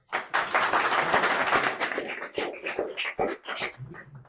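Audience clapping at a DJ event in Amsterdam, a dense burst of many hands that swells and then thins into scattered claps over a few seconds.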